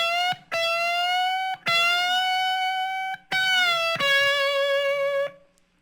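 Electric guitar solo lick, with a string bent up a whole step three times in separate ringing phrases, then a final sustained note that fades out. The tone is clean and close, with no voices.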